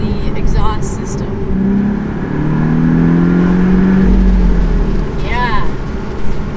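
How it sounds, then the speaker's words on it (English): A Porsche 718 Boxster four-cylinder engine hums steadily then swells as it revs, the exhaust note rising and falling in pitch, close by, with brief talking at the start and end. "I'm hearing a bit more sound when it comes to the exhaust system."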